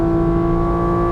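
A 2023 Porsche 718 Cayman GT4 RS engine on a race track, a loud, steady high-revving howl under full throttle, close and continuous with no talk.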